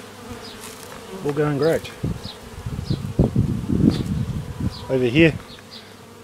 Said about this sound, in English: that's my 4 hives at home.